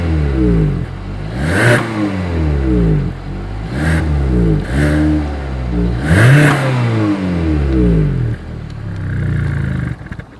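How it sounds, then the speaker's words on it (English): A 2020 Hyundai Tucson SUV engine revs repeatedly through a deep dual exhaust, several throttle blips rising and falling in pitch with a rumbling idle between, loud and close. "here is that exhaust clip"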